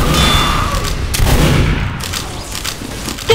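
Bursts of gunfire from the video game Team Fortress 2 crackle in quick succession across a short stretch, loud and dense with a few sharper booms.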